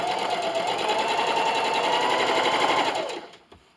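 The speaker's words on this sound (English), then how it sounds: "line them up so the pretty sides are touching, and sew that 1/4 inch seam allowance" A sewing machine runs steadily for about three seconds, stitching a quarter-inch seam through layered quilting fabric pieces for a quilt-as-you-go table runner, then stops and falls quiet.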